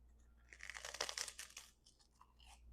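Close-up bites and crunching of a chocolate-topped rice cake, with a cluster of crisp, crackly crunches and tearing sounds in the middle followed by softer chewing, quiet and intimate with no talk.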